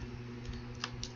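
Light, quick taps on a cellphone's on-screen keyboard come as a few faint, close clicks over a steady low hum, with no speech.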